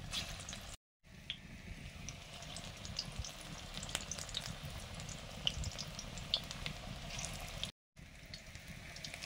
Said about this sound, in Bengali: বড়া ভাজা শুরু করলাম।